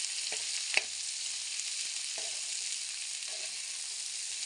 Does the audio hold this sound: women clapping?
no